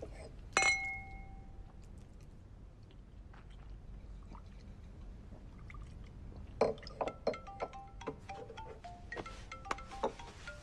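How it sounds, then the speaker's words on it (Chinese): Glasses clink together in a toast, a bright ringing chime near the start followed later by a cluster of lighter clinks and taps of glassware and dishes, close and fairly quiet. "来，干杯。"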